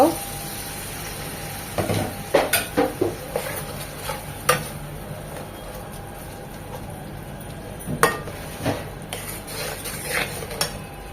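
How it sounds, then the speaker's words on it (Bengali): Ground chilli, turmeric and roasted cumin being stirred and fried with water in a pan, with repeated sharp clinks and scrapes of a spoon against the pan over a low sizzle, close and moderately loud, coming in bursts with quieter stretches. "পানি দিয়ে মশলাগুলো কষিয়ে নেব"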